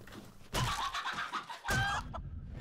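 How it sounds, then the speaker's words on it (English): A chicken in the video game Zomphobia clucks in two short bursts of squawky calls, moderately close and fairly quiet against a soft background. "Oh, there's a chicken."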